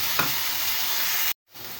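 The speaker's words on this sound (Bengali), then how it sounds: "ভেজে নিচ্ছি আমি" Washed black cumin seeds frying in hot oil in a pan, a steady close sizzle broken by a short near-silent gap before the sizzle resumes.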